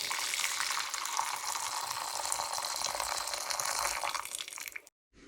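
Boiling water pours steadily into a pan for cooking lobster, a continuous rushing splash that runs for about five seconds and then cuts off abruptly.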